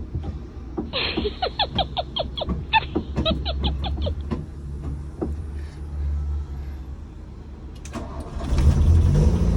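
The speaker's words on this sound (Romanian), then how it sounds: "să-i dăm și prima cheie să vedem ce face al nostru" A 41-year-old Volkswagen Golf Mk1 GTI starts up: a rapid whirring starter crank for several seconds, then the engine catches and settles into a rough idle, swelling louder near the end.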